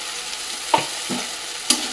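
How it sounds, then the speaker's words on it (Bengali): A spice mix with a yogurt, cashew and green chili paste fries in a pan with a constant soft sizzle. Three distinct scraping stirs of a spatula break through the sizzle. "দিয়ে ভালো করে মশলাগুলোকে নাড়াচাড়া করে একটু কষিয়ে নেব"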